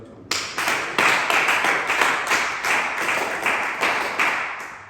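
A church congregation claps together in acclaim of Jesus, loud sharp claps landing in a steady rhythm of about two per second and carrying on without a pause.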